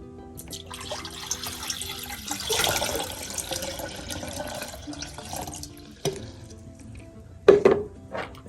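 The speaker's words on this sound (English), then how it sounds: "Here we've got a glass jar. We're going to fill it with some water here." Water poured into a glass jar for a Christmas candle centerpiece, a soft splashing, gurgling flow that swells and then tapers off, ending with a few louder clinks and splashes near the end.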